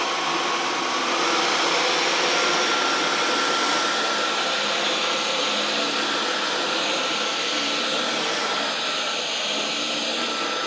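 A Dyson V15s Detect Submarine cordless vacuum with its hard-floor head runs steadily across Flotex flooring, giving a loud, continuous high-pitched motor whine and airflow rush with a faint tonal hum and no talking.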